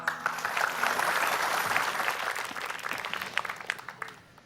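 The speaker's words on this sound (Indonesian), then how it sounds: "beri tepuk tangan yang paling meriah dulu untuk mereka bertiga" A studio audience bursts into loud, sustained applause that swells and then slowly thins into scattered claps, with no voices over it.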